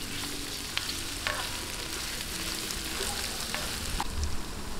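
A hotdog fries in a pan for Filipino-style corned beef macaroni, giving a steady close sizzle with occasional stirring clicks and no talk.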